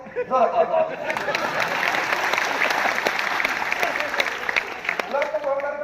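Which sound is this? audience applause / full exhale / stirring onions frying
audience applause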